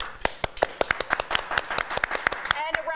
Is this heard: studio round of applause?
yes